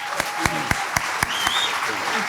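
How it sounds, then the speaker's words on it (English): Applause at a memorial gathering, with a few sharp, close, individual claps standing out over a softer spread of clapping, while people talk and murmur underneath. "Let's give them a round of applause,"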